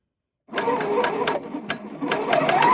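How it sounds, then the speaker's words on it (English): A serger sewing machine stitching a rolled hem seam starts up and runs in a fast, close mechanical whir with rhythmic ticking, briefly slowing before speeding up again. "So I'm going to sew"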